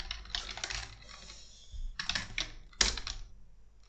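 Typing on a computer keyboard during a live coding session, with bursts of quick, uneven keystrokes close by, a short pause in the middle and a sharp louder clack near the end.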